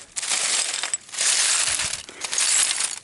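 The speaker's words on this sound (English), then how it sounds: "we'll put that in the Effie's dish anyway. A lot of bits of glass" Small bits of glass tip into a dish while sifting a dump site, giving three bursts of bright clinking and crunching rattle, each lasting about a second, close and fairly loud with brief pauses between.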